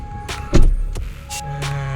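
A Toyota Hilux Vigo 2.5 E 4WD pickup door shuts with one solid close-range thud, surrounded by a few lighter clicks and rattles from the cab and a faint steady hum.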